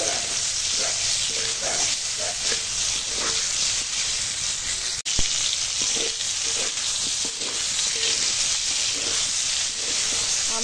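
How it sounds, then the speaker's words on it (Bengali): Mango pieces fry in a pan with turmeric powder and salt, giving a steady, dense sizzle with light crackles throughout and one sharp knock midway. "আমটা ভাজা হয়ে গেছে,"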